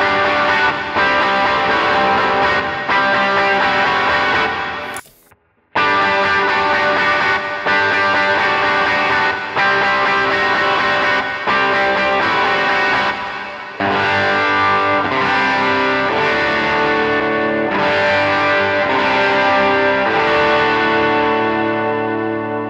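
Overdriven electric guitar played through a JET Revelation reverb pedal, a loud, sustained, distorted tone with a brief dropout near the middle, running continuously for over twenty seconds with no talking.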